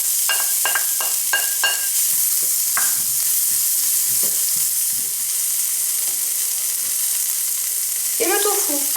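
Onions fry in a hot, oiled pan with a steady, close sizzle. A quick run of light clinks and scrapes comes early, and a few more stirring knocks follow later. No one speaks.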